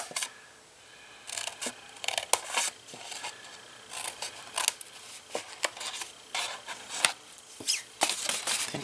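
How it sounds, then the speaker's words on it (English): Scissors snip through thick card along a score line in quiet, close, irregular crisp cuts, with small rustles and pauses between them. "So cut up on the left hand side of the score line and then just cut that score line out"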